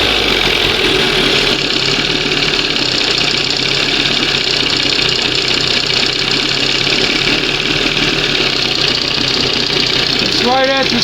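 A 1971 Johnson 20 HP outboard motor runs steadily without idling down, a loud close continuous knocking drone, with a brief voice near the end.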